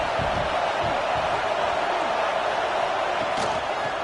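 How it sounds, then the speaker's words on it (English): A stadium crowd at a football game makes a steady, loud roar of cheering and noise, with a few scattered shouts and thumps rising from the constant wash of sound. "This crowd bringing the energy and noise early."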